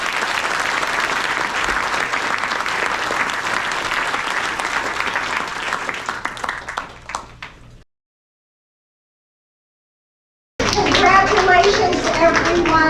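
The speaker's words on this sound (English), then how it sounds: "Let's give one big round of applause to all of our scholarship recipients." Applause at a scholarship award ceremony: a crowd applauds steadily with a few children's voices mixed in, fading out, then after a short silence lively children's chatter and clapping return.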